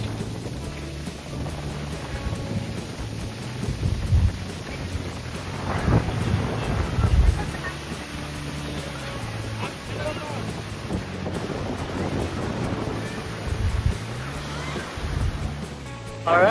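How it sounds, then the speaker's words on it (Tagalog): A strong outdoor wind buffets the microphone with a constant roar and rumbling gusts that swell and ease, while people talk intermittently underneath. "talo kami ng hangin, sobrang lakas"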